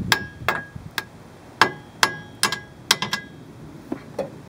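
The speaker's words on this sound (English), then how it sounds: "Now we take a hammer." A hammer knocks a tie rod end loose from a car's steering knuckle during a wheel bearing job, a run of about ten sharp metallic strikes, uneven in spacing and loudness and close by, with no talking.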